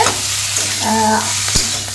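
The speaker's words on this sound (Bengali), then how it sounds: "আর এই যে আলু ভাজছি" Baby potatoes frying in a home kitchen pan, a steady close sizzle with brief stirring scrapes and a sharp clink partway through.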